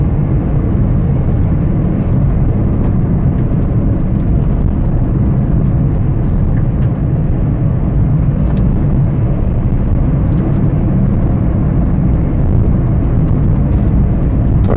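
A Hyundai i10 Sportz being test driven gives a steady, loud broadband road and engine rumble, heard continuously from inside the car with no voices.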